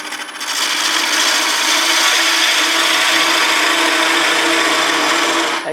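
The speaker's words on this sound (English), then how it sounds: "you can part all the way down completely and cut through the piece, and then the piece will come off the lathe" A wood-turning parting tool cuts steadily into a spinning piece on a lathe, giving a loud, continuous scraping rasp with a constant motor hum underneath, running unbroken for several seconds with no speech.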